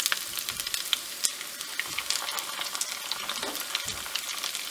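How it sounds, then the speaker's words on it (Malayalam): Onion fritters (ullivada) made from leftover rice frying in hot oil, a steady close crackling sizzle with scattered pops throughout, no talking. "ഇതൊരു സൈഡ് ഫ്രൈ ചെയ്തിട്ടുണ്ട്"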